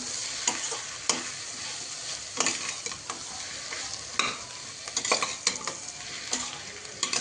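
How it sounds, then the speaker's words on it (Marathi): Vegetables with turmeric and a pinch of asafoetida are stir-fried in a pan for veg biryani, giving a continuous sizzle broken by repeated scraping and clinking spatula strokes at an irregular rhythm, close and moderately loud. "पुन्हा सर्व परतवून घ्यायचं आहे"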